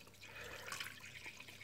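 Water is poured into the reservoir of a DIY vapor blaster pump, giving a soft, continuous splashing and trickling at close range.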